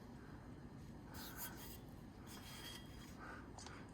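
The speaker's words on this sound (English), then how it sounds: "I'm gonna clean this up and we'll see if we can read that." Steady scrubbing and rasping as an old J.H. Williams alligator wrench, almost 16 inches long, is rubbed clean, a close continuous abrasive sound with brief louder strokes throughout.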